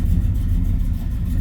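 A 1967 Chevrolet El Camino's engine runs with a loud, steady low rumble close by, with no voices.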